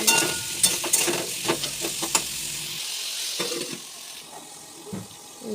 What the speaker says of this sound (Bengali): পেঁয়াজ পটল আলু একসাথে ভেজে নেব।